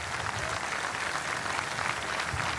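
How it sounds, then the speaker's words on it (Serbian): A large outdoor audience at a motorway groundbreaking ceremony applauds steadily, dense even clapping sustained throughout at fairly loud level, no voices standing out. "Molim vas najpre da velikim, ali velikim aplauzom pozdravimo naše goste"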